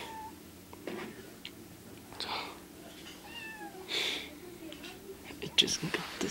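A newly adopted cat gives a few short, soft meows indoors amid quiet whispering and low talk, with light handling noises around it.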